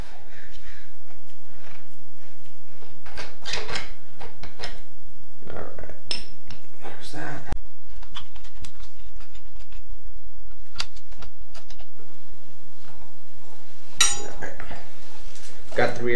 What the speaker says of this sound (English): let's see if we can get this tire off.